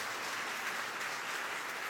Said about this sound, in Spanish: Demos un aplauso a Dios por todo lo que Él nos ha permitido.